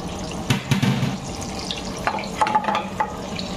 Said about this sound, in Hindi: दोस्तों सूखा मिर्च डाल दिए